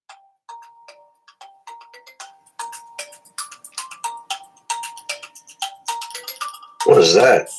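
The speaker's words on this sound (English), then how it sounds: "The phone call. Try and answer it." An incoming call sounds as a repeating two-tone electronic ring, a steady rhythmic series of chime-like pulses under light background voices, ending in a louder burst of noise.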